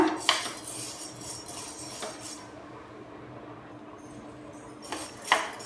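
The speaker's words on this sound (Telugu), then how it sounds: "ఇప్పుడు బియ్యం కూడా వేసేసుకుందాం దోరగా వేపుకోవాలి ఇలా" Rice being roasted and stirred in a pan for sunnundalu, with a spoon scraping and clinking against the metal in a few sharp knocks over a soft continuous sizzle.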